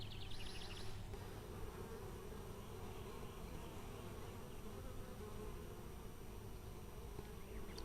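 Constant, dense buzzing of many bees at a hive entrance designed to keep out small hive beetles, close and continuous throughout with no talking.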